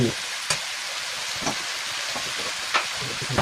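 Chopped onions sautéing in a hot pan give a steady, moderate sizzle. A few sharp scrapes from stirring land at irregular moments over the frying hiss.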